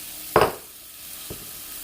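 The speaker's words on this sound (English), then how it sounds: "we are just going to continue to saute these until they are translucent" Chopped onions for creamy poblano rajas con crema tacos sizzle as they hit a hot sauté pan: one short, loud burst of frying, then a quiet simmer with a faint tap about a second later.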